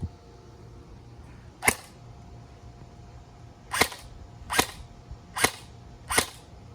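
A stock airsoft gun fires through a chronograph: five sharp, close snapping shots, the first standing alone and the last four coming in a quick, evenly spaced run over a quiet background.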